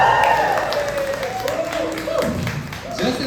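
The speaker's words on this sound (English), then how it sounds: "Clap it up for that" A stand-up comedy audience breaks into a brief burst of applause and cheering, close and steady for a few seconds, mixed with crowd noise and a voice talking over it.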